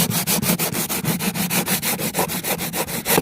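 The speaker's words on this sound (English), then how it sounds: "Then I take a piece of sanding block" A sanding block rubs back and forth over painted porch wood to smooth the edge between raw wood and paint, giving fast, even rasping strokes, close and loud with no talk.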